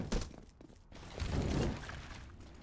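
An incendiary grenade in Counter-Strike lands with a shattering thunk, then bursts into a loud, rushing roar of flame that swells and slowly fades, with game sounds in the background.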